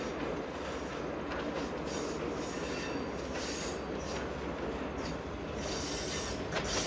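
A passenger shuttle train rolls past between tunnels on a scenic line, a steady loud roar of wheels on rails with faint rhythmic clatter and hiss, heard alone without voices.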